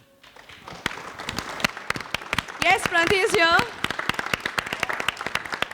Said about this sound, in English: let's give a big, big round of applause